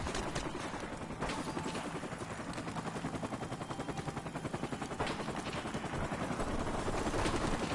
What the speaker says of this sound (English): Friendly chopper on the way.